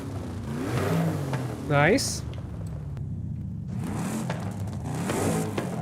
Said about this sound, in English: That sounds like a real Chevy exhaust.